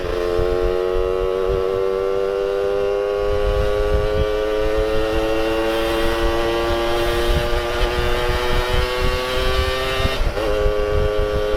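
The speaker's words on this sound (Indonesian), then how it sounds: "suaranya motor pun jempling-jempling rasanya." Motorcycle engine droning steadily while riding on a holiday trip to Malang, the pitch slowly climbing and dipping with a faint rattle, close and continuous with a brief horn-like tone near the end.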